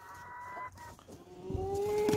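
Chickens cluck near the feed, fowl calls rising and warbling over a soft background for about two seconds, with no talk.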